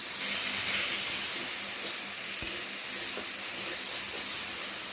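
Prawn heads fry in mustard oil in a wok, giving a steady, fairly loud sizzling hiss throughout with one brief knock, and no talking.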